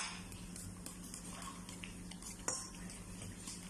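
A spoon stirs a tortang malunggay egg mixture with onion, tomato and coriander in a bowl, producing faint, soft scraping and light clinks with one sharper knock, quiet and close with no talk.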